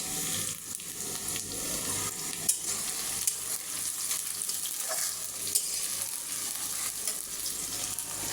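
Green chilies fry in a pan with a continuous close sizzle, and occasional stirring scrapes and taps rise above the hiss.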